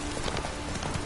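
Roach the horse trots in a video game, with steady clip-clop hoofbeats on the ground in a continuous rhythm under a dense ambient background.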